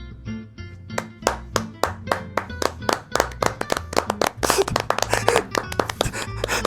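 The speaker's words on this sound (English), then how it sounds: "Everyone give Dave a round of applause." Clapping for someone named Dave: distinct separate hand claps that start sparse and rhythmic, then grow denser and more overlapping toward the end.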